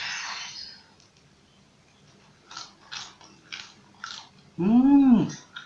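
Crisp bites and crunches from someone chewing a fried tapioca-flour snack filled with oncom and chili, with about five close, separate crunches followed by a short voiced hum.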